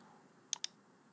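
A computer mouse gives two quick, crisp clicks in close succession, close and quiet, against near silence.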